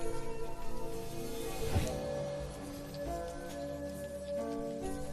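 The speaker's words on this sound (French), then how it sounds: "Il pleut tellement." Heavy rain pours steadily in a dense, continuous patter of drops striking surfaces, close and even throughout with no voices over it.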